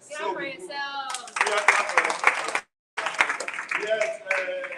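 Audience clapping at the unveiling of the WSICE gallery in Ogun State, Nigeria: two bursts of dense, fairly close applause with a brief pause between them, with a voice talking over the start.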